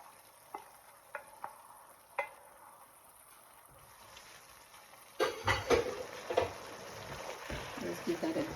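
A pot of egusi soup with bitter leaf is stirred, first with a few faint isolated clinks, then with louder close scraping and bubbling strokes in the second half.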